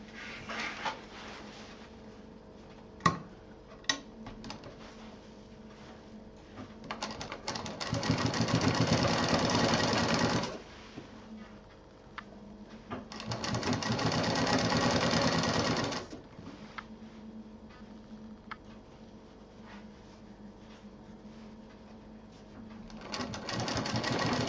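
An electric sewing machine stitches a DIY handbag, its steady mechanical whirr rising in two loud bursts of several seconds each. Quieter handling noises and clicks come between the bursts.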